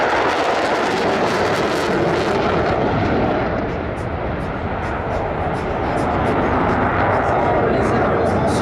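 Military jets flying at an air show, heard as a loud, sustained engine roar that swells and eases slightly mid-way. An announcer's amplified voice seems to run underneath.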